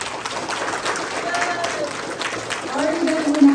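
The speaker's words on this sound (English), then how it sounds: "including myself, a round of applause" A crowd at a Hmong Day community celebration applauds in a steady wash of clapping that holds throughout, with voices audible underneath and swelling slightly toward the end.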